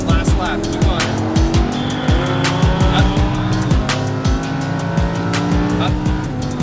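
A race car on a track in Las Vegas revving hard through repeated gear changes, with engine pitch rising and dropping sharply as it accelerates and brakes, loud and close, while an instructor gives directions over it.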